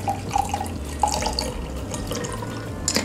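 French 75 cocktail strained from a shaker without a strainer, liquid pouring and splashing into a glass for about three seconds, with a few light clinks.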